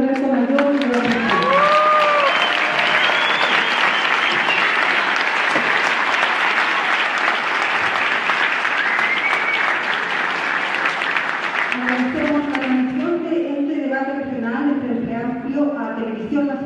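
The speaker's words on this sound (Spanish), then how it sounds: "Vamos a recibir con un aplauso entonces a la candidata y el candidato del" Sustained audience applause at a Frente Amplio political debate in Coquimbo, a dense, loud wash of clapping and some cheering that lasts about twelve seconds before fading as voices and music take over.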